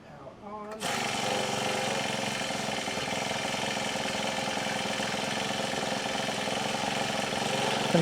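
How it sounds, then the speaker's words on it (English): Honda FG110 mini tiller engine starting up and settling into a steady, loud idle after a brief quieter moment, running continuously and close by. "used that screw right there to turn up the idle speed just a little bit"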